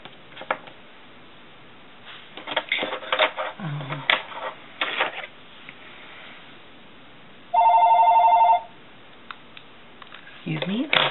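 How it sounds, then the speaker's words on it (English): A telephone rings once in a long, loud electronic trill partway through, amid quiet rustling of paper and planner work at a desk, with someone talking before and after. "Excuse me, that's my phone."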